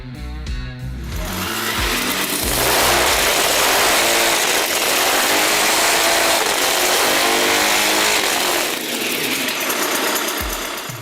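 A loud, buzzy 125cc two-stroke Piaggio motorcycle engine revs up and holds a high, rasping drone, then eases down near the end, close by and unbroken.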